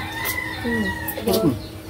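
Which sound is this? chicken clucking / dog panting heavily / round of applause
chicken clucking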